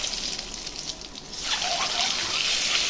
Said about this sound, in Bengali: ডিমগুলো ভেজে নিচ্ছি